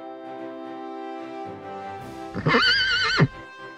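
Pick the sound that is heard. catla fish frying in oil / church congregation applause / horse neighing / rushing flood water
horse neighing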